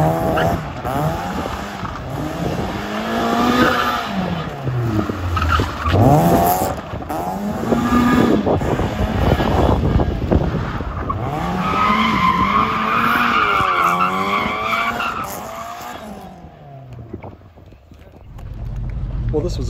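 A car pulls out of a busy Cars and Coffee meet crowded with JDM, American and supercars; its engine note rises and falls through sweeping revs, loud and close, with people talking over it throughout.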